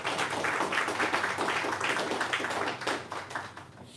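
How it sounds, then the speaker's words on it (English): A seated audience at a Barbados Museum & Historical Society journal launch gives a round of applause, many hands clapping in a lively, slightly uneven patter that thins out toward the end. "Let's give them a round of applause."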